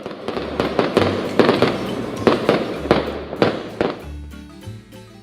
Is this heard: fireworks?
yes